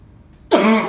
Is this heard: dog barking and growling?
no